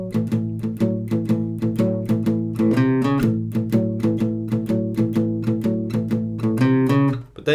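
Guitar repeats a short blues riff over and over in a steady plucked rhythm, bright sustained notes with occasional chordal double-stop accents, close and clear with no talking.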